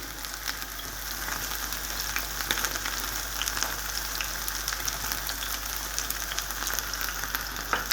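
Potato pancakes with mushrooms fry in a pan, giving a soft, steady sizzle with scattered tiny pops, fairly quiet and close, with no voices.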